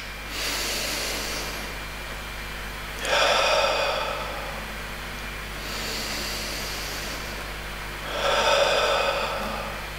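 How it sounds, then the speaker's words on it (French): Four slow, deep breaths in a calm energy-routine exercise, each a long hissing inhale through the nose followed by a breathy exhale through the mouth, close and clear with quiet pauses between. "vous prenez de profondes respirations en inspirant longuement par le nez et en expirant par la bouche"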